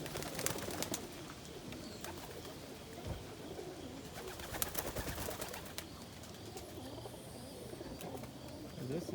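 Pigeons coo continuously in a loft, a dense low murmur of several birds with clicks and scuffling mixed in throughout.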